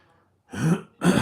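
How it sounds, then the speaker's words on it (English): Two short, rough throat-clearing coughs close to the listener, one after the other, following a brief quiet moment. "I just have a cough"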